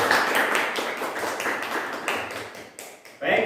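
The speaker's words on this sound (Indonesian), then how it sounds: "Berikan tepuk tangan yang meriah." Classroom applause for a presenting student group, a brisk patter of many hands clapping at close range that runs steadily for a few seconds with a louder burst near the end.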